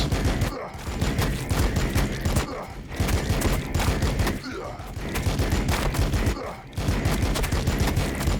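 Dense, loud volleys of gunfire from a Warhammer 40,000 video game battle, Blood Angels against T'au, crackle in sustained bursts broken by brief gaps, with faint groans and voices in the mix.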